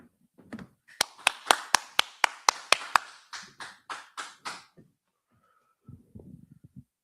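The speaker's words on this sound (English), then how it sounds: "All right, clap it up." A group of people in a class clap in a steady, evenly spaced rhythm, about a dozen sharp claps that fade out, followed by a brief murmur of quiet voices near the end.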